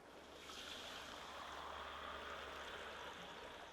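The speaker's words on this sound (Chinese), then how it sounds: "炸香了就可以加水了哈" Water poured into a wok of fried bean paste makes a continuous, faint rushing splash and hiss that holds evenly for a few seconds.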